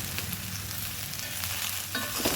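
Okra with turmeric and salt sizzles in a frying pan, a dense steady hiss with a few light stirring scrapes near the end.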